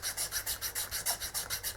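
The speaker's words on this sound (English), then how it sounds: "So it's going to take a while of filing." A metal keystone holder being filed by hand, about ten steady rhythmic rasping strokes in a regular back-and-forth cadence, close and alone with no talk.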